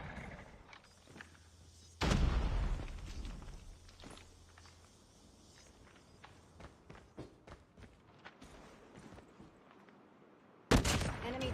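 Gunfire and footsteps from the shooter video game Call of Duty Mobile, played at a world championship match. Steady clicks, taps and shots carry throughout, with a loud blast near two seconds and another sharp burst at the very end.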